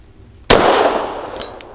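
A single loud, close pistol shot from a Girsan MC14G84 firing Hornady American Gunner ammunition cracks sharply and rings out into a long decaying tail, followed by a faint metallic clink of brass.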